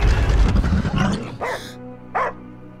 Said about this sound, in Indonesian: Lalu dia pun terbangun oleh gonggongan anjingnya